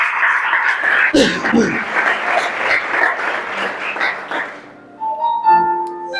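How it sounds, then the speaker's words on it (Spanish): Church congregation breaking into loud, dense applause that fills most of the stretch with a few shouts mixed in, then fading out as a sustained tonal sound, likely music, takes over near the end. "¿Cuántos dan un fuerte aplauso a aquel que vive y que reina?"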